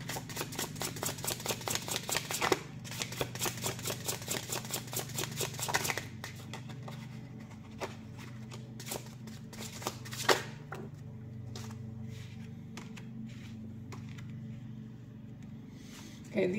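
Tarot cards are shuffled close up in a rapid, crisp riffling rhythm for about six seconds, followed by quieter scattered card taps and handling.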